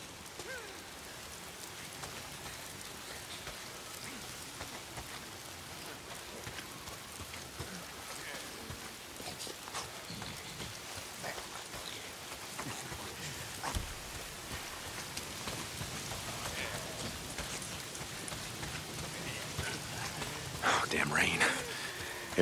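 Steady rain falls throughout a Days Gone game scene, a dense continuous hiss with scattered drop hits, growing slightly louder near the end, with a few brief other noises mixed in.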